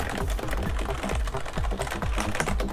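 Typing on a white Rosewill RK-9000BRI mechanical keyboard produces a close, quick run of crisp key clicks and clacks in an irregular rhythm, continuous and alone.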